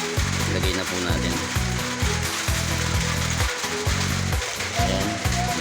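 Karepa leaves hitting hot liquid in a pot for maligoso, a soup of leafy greens, with a steady loud sizzle and bubbling that stays continuous throughout.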